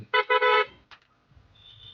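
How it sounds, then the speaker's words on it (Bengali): A Suzuki Gixxer motorcycle horn honks in two quick bursts on a rough road, then a brief chirp follows, with a faint high tone and light background noise afterward. "তোরে হর্ন দিছি আমি। হর্ন দিলে হর্ন শুনোস না কেন?"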